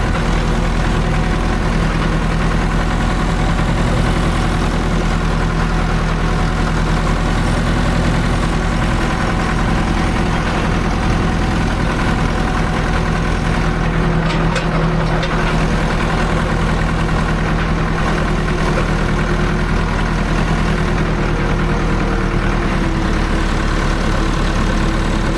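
A tractor engine idles steadily on a farm, a low continuous rumble with a deep hum, loud and close, holding constant for the whole stretch with no voices.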